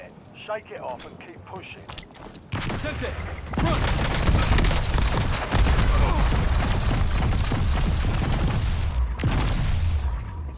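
Rapid gunfire and explosions in the online shooter Call of Duty: Warzone, a loud sustained burst of shots and blasts that fills most of the stretch after quieter mechanical clicks, with a player talking over it.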